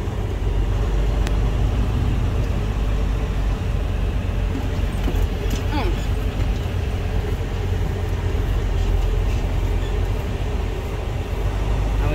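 A semi truck swings through a tight, almost jackknifed U-turn beside parked trailers in a pallet yard, its engine a steady, loud, unbroken rumble for the whole stretch.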